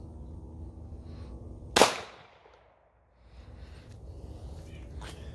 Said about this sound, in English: a 9mm shot out of a Glock 19